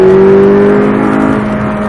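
A 2016 McLaren 570S Coupe engine revving on a race track, a loud close steady drone with a sustained tone that holds and slowly shifts, no talk over it.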